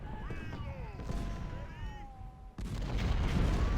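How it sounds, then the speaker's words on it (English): Artillery fire rumbles through an Ultimate General: Civil War battle, dense low booms rolling continuously and growing louder toward the end, layered with tonal game music, and no one speaks. "So we're letting the artillery do its thing."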